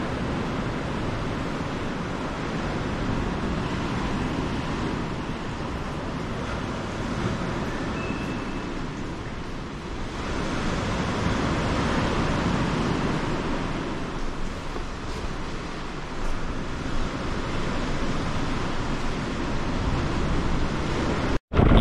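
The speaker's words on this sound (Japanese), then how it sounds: "波が岩に当たる音がすごかったです" Waves crashing against rocks below a cliffside stretch of coastal highway, a continuous broadband roar of surf with gentle swells in loudness, heard alone from a stopped vehicle.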